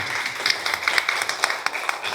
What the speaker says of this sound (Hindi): तालियां बजाएंगे सभी